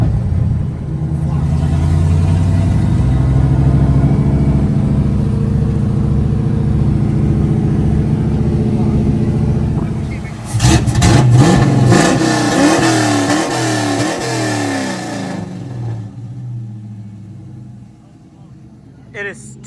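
An LS1 V8 swapped into a Nissan 240SX rumbles loudly and steadily at close range, then revs up in a few sharp surges before settling into a lower idle, with people talking over it throughout.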